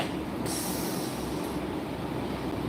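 A continuous loud rumbling roar of a train passing close by, with a brief high screech of wheels near the start.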